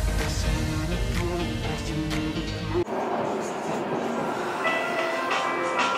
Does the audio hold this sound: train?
yes